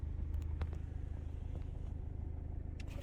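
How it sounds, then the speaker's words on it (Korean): A BMW GT diesel engine idles with a steady low rumble and faint clatter, close by, with a few small clicks and knocks over it. "시동 한번 걸어볼게요 들리십니까? 이 차는 디젤입니다"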